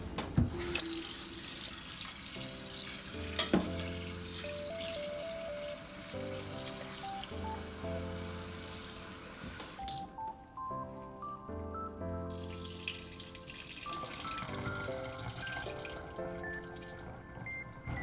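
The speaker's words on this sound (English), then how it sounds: "Then we're just gonna run it under some cold water." Steady running cold tap water flowing continuously over saltfish in a sink, with a constant rushing stream and faint drips underneath.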